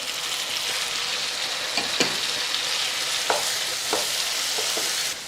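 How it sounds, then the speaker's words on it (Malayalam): Finely chopped shallots and three peeled, chopped tomatoes fry in a pan for a coconut milk prawn curry, with a loud, even sizzle and a few light stirring taps and scrapes. "ആ സമയത്തേക്ക് നമ്മൾ ചെറുതായി അരിഞ്ഞ ചുവന്നുള്ളി ഇടുക."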